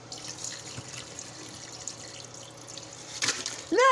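Water is poured from a container onto homemade snow made in a blender, a short steady trickle and splash that swells into a louder gush near the end.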